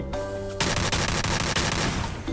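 Dense, continuous automatic gunfire from a video game, loud and close, with rapid shots blurring into a sustained roar over a humming background tone.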